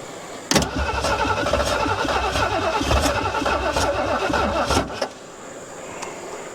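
A 1973 Ford Mustang Mach 1 being jump-started cranks steadily for about four and a half seconds, with a rapid rhythmic churning and faint sputter, then stops abruptly, leaving a low background hum.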